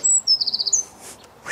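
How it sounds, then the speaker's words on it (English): Birds sing loudly nearby in a vegetable garden, with a high whistled note followed by a fast trilling run of repeated chirps, then fainter calls further off. "we've been joined by some birds and they're being very loud."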